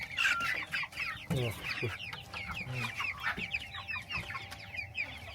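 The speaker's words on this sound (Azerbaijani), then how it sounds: "Bu xoruzdur, bu xoruzdur. O xoruzdur, o xoruzdur." Young roosters and hens cluck and chatter close by in a farmyard, a busy stream of overlapping clucks and squawks, with a person briefly speaking under them.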